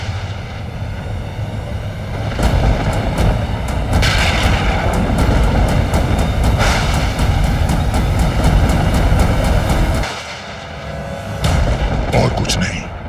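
Heavy rumbling thunder rolls from storm clouds in a mythological drama scene, a loud sustained roar with booming surges and cracks that dips briefly before swelling again.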